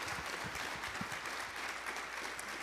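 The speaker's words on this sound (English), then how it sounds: "Let's give her a big round of applause." Faint, steady audience applause at a child-welfare talk sounds like a distant wash of many hands, even and continuous for a few seconds.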